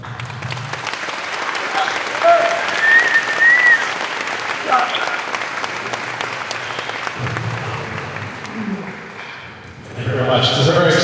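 Sustained audience applause fills a class night awards ceremony hall, a dense wash of clapping from a large crowd that runs steadily, fades briefly, then swells again near the end.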